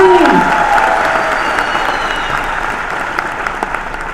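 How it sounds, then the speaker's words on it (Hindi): An audience applauds the performers with loud, dense clapping that starts at full strength, swells briefly, then gradually thins and fades. A short vocal sound rises at the very start. "तो भाई हमारे कलाकारों के लिए जरा जोरदार तालियां होनी चाहिए।"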